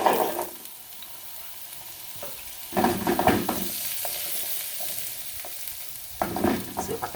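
Zucchini sizzles in olive oil in a pan, a steady frying hiss broken by louder bursts of stirring and scraping as the pieces are tossed, with no voices.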